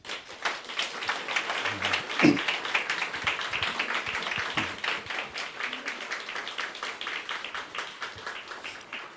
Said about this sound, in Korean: 우리 환영의 박수를 한번